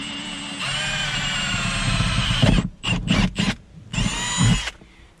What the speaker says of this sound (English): got my drill. I'm gonna use a 7mm drill bit for this.